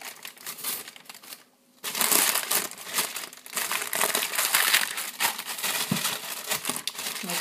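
Parchment paper crinkles and rustles almost nonstop as it is laid over a layer of yellow squash, close by and fairly soft, with one brief pause.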